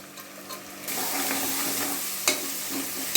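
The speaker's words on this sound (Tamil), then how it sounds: "இப்போ இஞ்சி பூண்டு பேஸ்ட்டு ரெண்டு ஸ்பூன்" Ginger garlic paste with onions frying in a pan for mutton biryani, a steady close sizzle that swells suddenly after a quiet start, with a few brief stirring knocks.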